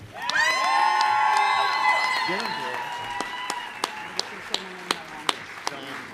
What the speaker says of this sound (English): let's have a big round of applause for Chandra